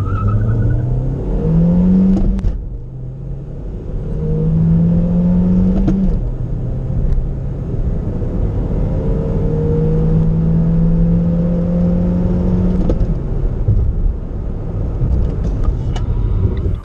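A loaded Renault Dokker van accelerates hard from a standstill to 100 km/h, the engine whining up through rising revs in several stretches, each broken by a brief dip at a gear change, loud and heard from inside the cabin.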